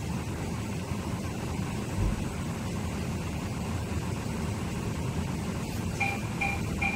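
A BYD SkyShuttle monorail in Pingshan, Shenzhen, pulls into its terminus station. A steady low rolling rumble fills the cabin, with a short run of electronic chime tones near the end.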